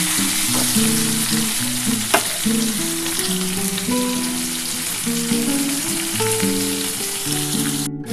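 Onions sizzle loudly and continuously in a pan, a dense frying hiss running the whole time, with soft tonal background music underneath and one sharp clink partway through.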